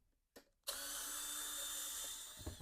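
Power drill or driver running steadily to back screws out of the inner door panel on a Saeco Xelsis coffee machine, a sustained whine after a brief click, close and alone.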